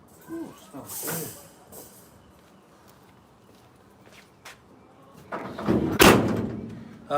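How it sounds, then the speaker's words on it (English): A house door is pushed shut with a dull thud, followed by quiet shuffling and a second louder bang and rattle near the end. "Let me shut this door behind you so my dog don't come ripping out."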